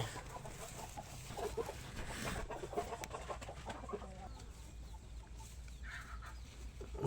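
Chickens cluck at a duck and chicken farm, a steady murmur of fowl calls spread across the yard at moderate distance, with no talk.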